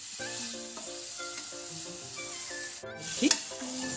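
Ivy gourd and onion sizzle in a pan while being fried until reddish, a steady close sizzle running throughout with a brief scrape of stirring near the end, under a continuous background of tonal music.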